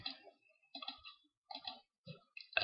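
Mouse clicks in Ubuntu's software center while configuring the firewall app, several quiet separate clicks spaced irregularly, close and faint against near silence.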